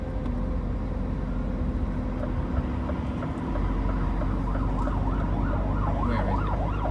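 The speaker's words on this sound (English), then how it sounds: "I can hear your sirens once again." A wailing siren from an unmarked emergency vehicle swells in from a distance in Wembley rush-hour traffic, its pitch rising and falling in a steady cycle over constant truck road and engine rumble.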